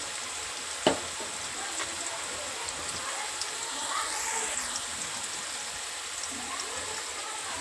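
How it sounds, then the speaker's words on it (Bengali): Cut potatoes, washed and parboiled, frying in hot oil for homemade French fries, giving a steady soft sizzle throughout with one sharp knock near the start and faint scraping. "তারপরে হালকা এইভাবে তেলের মধ্যে ফ্রাই করে নেব"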